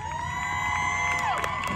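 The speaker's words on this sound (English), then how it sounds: "round of applause for Isabel Latshaw" A stadium crowd cheers and applauds for a senior at a high school football senior night, a steady roar of voices with sustained musical tones ringing over it throughout.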